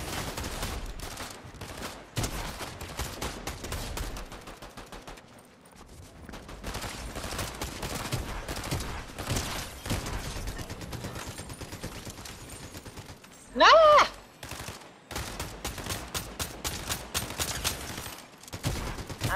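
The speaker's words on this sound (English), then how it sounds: "I'm shooting all these motherfuckers" Gunfire in Fortnite: bursts of rapid shots and sustained volleys rattle on and off throughout, with one sharp loud blast partway through and brief quieter gaps between exchanges.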